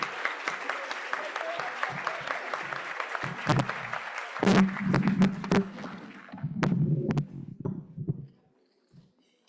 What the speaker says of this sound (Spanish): Oigan, un aplauso por el joven.